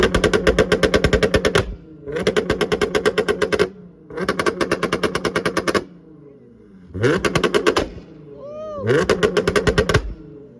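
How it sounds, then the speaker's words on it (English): Long bursts of rapid automatic gunfire from a Draco rifle at a car meet, four or five sustained volleys separated by brief pauses, loud and close. "He brought a Draco to the car meet."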